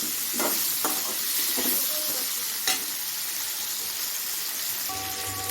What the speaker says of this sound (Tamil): இது வந்து நல்லா வதங்கி வரட்டும்